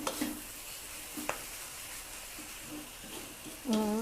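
Thin rice noodles tossed with a spatula in a wok with chive leaves after the gas is shut off, giving a soft sizzle with a few sharp scraping strokes; a voice comes in briefly at the end.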